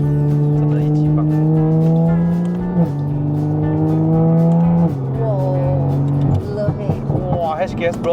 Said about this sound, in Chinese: 你看它的降档啊，真的是毫不犹豫的嘞。